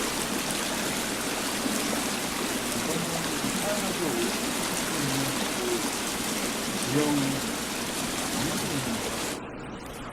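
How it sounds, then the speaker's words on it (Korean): Steady rushing of flowing water in the video game The Forest fills the scene, loud and continuous, with faint voices and small tones mixed underneath. "이 물소리 때문에 채팅이 안 들려요"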